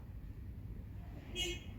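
A single short car horn toot sounds on a street in the mural village of Hyoja-dong, Chuncheon, over a steady low hum of traffic.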